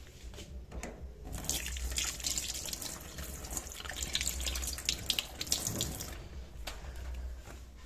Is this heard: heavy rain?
no